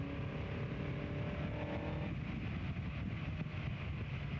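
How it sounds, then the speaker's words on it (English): The engine of a car driven around a racing circuit holds a steady, loud tone with shifting harmonics and a change in pitch midway. No voices are heard. "Got quite a lot of power left on this car, I'll tell you that."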